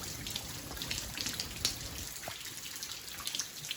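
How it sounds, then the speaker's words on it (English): Cold rain falls outside at 35 degrees, with scattered drips and patters over a steady soft hiss and a few sharper drops tapping nearby. "Well, it's 35 degrees and it's still raining."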